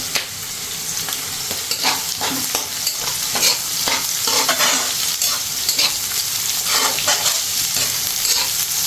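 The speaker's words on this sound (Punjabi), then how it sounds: "ਪਿਆਜ਼ ਥੋੜੇ ਲਾਈਟ ਬ੍ਰਾਊਨ ਹੋ ਗਏ ਆ ਆਪਾਂ ਇਹਦੇ ਵਿੱਚ ਕਰਾਂਗੇ ਜੀ ਮੇਥੀ ਐਡ ਨਾਲ ਹੀ 4 ਤੋਂ 5 ਆਪਾਂ ਜਿਹੜਾ ਆ ਕੜੀ ਪੱਤਾ ਲਿਆ ਆ ਉਹ ਇਹਦੇ ਵਿੱਚ ਪਾਵਾਂਗੇ" Lightly browned onions fry loudly in a pan with fenugreek and curry leaves added, a continuous close sizzle punctuated by rhythmic stirring scrapes throughout.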